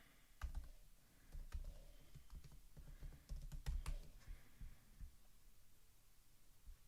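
Keys on a computer keyboard tap in quick irregular clusters while a password is entered, soft and close over a low background hum.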